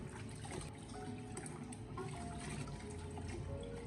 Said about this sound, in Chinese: 用流动的自来水把鸡脚表面的一些残留的血沫冲洗干净